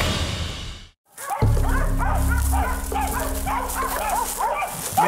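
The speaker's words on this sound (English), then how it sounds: "The bay dogs are baying up. I can hear them. They're barking away over there." Bay dogs bark steadily during a hunt, a pack baying over and over somewhere ahead in the woods, loud and close after a brief pause at the start.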